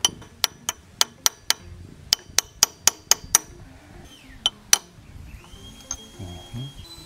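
A hammer flattens the lock tab on a ZX4RR motorcycle sprocket with sharp metallic taps, close and loud. The strikes come in quick even runs of five or six, then a few scattered blows, with clinks and quiet workshop rustle between.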